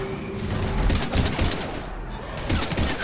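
Dense, continuous gunfire from a Mass Effect 3 firefight, many overlapping shots and booms close and loud for about three seconds, with voices mixed under the noise.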